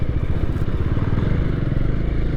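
A motorcycle being ridden, its engine droning loud and close in a steady low rumble with a throbbing pulse, mixed with wind and road noise over a short stretch.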